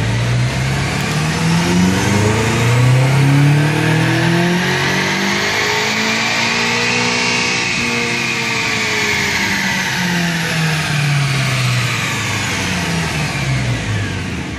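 A BMW M5 with the N63TU twin-turbo V8 and a JB4 tuner runs a dyno pull, its engine climbing steadily in pitch under load to a loud peak before winding back down, sustained and close.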